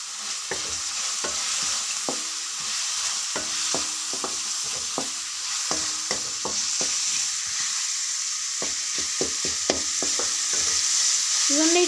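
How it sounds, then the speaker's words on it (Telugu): Tomato masala with turmeric frying in a pan, with a steady near sizzle throughout and frequent sharp spatula scrapes and stirs at an uneven rhythm, heard alone without talk. "ఇవన్నిటిని అయితే ఇంకోసారి అయితే ఫ్రై చేసుకోవాలి ఫ్రెండ్స్"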